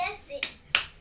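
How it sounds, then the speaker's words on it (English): Children clapping hands at home, two sharp claps after a faint trailing voice, quiet and sparse. "Keep clapping."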